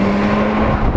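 Turbocharged engine of a Porsche 911 Turbo S Cabriolet under load, a loud close droning tone holding steady for a second with road noise beneath, no talking.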